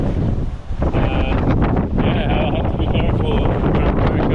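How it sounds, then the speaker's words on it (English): Strong wind buffets the microphone while cycling a Brompton folding bike into a heavy headwind on a road in Greece, a loud, steady roar that fills the whole clip with only brief dips. "my only hope now really is for this wind to kind of die down a little bit later this evening"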